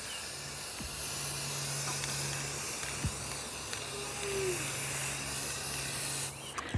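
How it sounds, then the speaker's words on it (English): A steady, continuous hiss of Rust-Oleum spray paint coating a basket runs throughout, close and even, with a faint low hum underneath. "I'm going to spray paint this basket."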